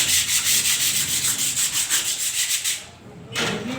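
Sandpaper scrubs rust off the metal mesh of a water cooler in quick, rhythmic back-and-forth strokes, close and loud, with a brief pause near the end before rubbing resumes.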